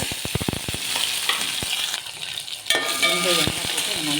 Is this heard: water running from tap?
no